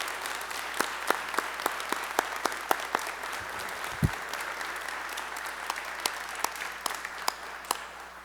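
Sparse, fairly quiet applause at a school board meeting honoring nominees and award winners, with distinct individual claps standing out over a low room hum.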